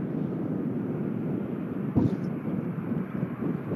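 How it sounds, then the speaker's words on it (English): A Boeing 787-8 Dreamliner comes in to land at Manchester Airport, a steady distant jet roar under gusty wind noise, with one brief thump partway through. "the Series 8, which is about to land"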